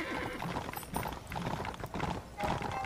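Horse hooves clip-clop steadily in Red Dead Redemption, a continuous galloping patter mixed with outdoor ambience and occasional snorts, fairly close and even in loudness.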